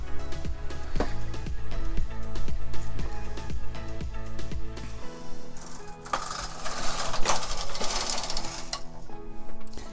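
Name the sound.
knitting machine knitting rows of a chunky yarn sock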